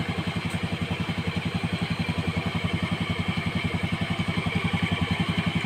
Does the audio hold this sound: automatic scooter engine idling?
yes